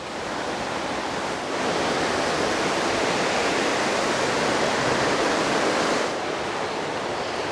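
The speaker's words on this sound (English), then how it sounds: "Got the rain." Steady broadband hiss of rain, fairly loud and continuous, swelling slightly in the middle before easing, with no voices.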